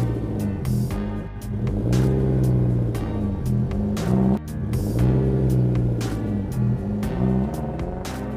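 A car engine revving hard as the car sits stuck in snow, with steady loud rumbling and rising and falling revs over several seconds and no talk.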